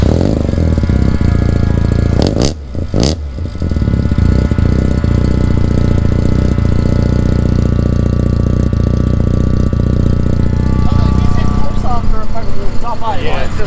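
A 13B rotary engine in a Mazda RX2 idles steadily and loudly nearby, with a continuous low pulsing throb through the whole stretch and a brief dip early on. People talk over the engine noise.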